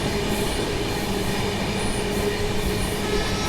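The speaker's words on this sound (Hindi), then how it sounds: "धीरे धीरे हम लोग कोसी कलां से निकल रहे हैं।" Secunderabad Rajdhani Express rolling out of Kosi Kalan, a steady close rumble of wheels and carriage noise with faint squeals and rail clatter throughout, no voices.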